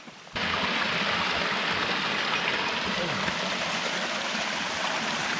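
Mountain stream water rushing loudly and steadily on a high trail on Mt. Haku, a broad continuous splashing roar close by that starts abruptly and holds through the whole stretch.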